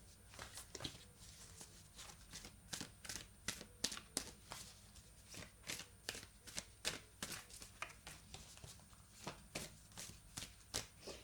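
Tarot cards shuffle softly and steadily, with quick repeated riffling taps and flutters throughout, faint and close with no talking.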